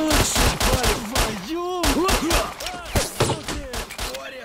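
Makarov pistol shots ring out in the S.T.A.L.K.E.R. Shadow of Chernobyl video game, a rapid run of sharp close cracks amid other gunfire and game noise, with ricochet-like whines between them.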